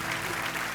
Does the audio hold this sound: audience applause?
yes